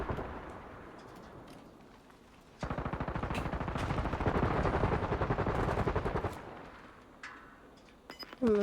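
Video game firefight with snipers: a sustained burst of rapid automatic gunfire lasting several seconds, flanked by scattered single shots and a few sharp reports near the end, loud against a quiet background.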